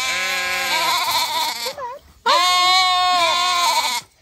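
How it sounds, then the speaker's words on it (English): Mini sheep bleat loudly and close in two long, wavering calls separated by a brief pause, filling nearly the whole stretch with strong harmonic cries. "I don't think he's ever heard such vocal sheep before."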